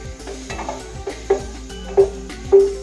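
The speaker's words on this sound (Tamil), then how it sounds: "கடாயில் என்ன பண்ணுறோம், வெண்ணெய் சேர்த்துக்கலாம்." Butter melts and fries in a kadai with soft sizzling under a few light metallic scrapes and taps from a utensil, close up, with no talking.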